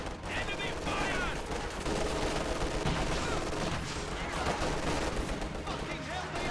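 Dense battlefield gunfire from a StarCraft game clash: continuous overlapping rapid shots with explosions, loud and sustained throughout, with a voice faintly mixed underneath.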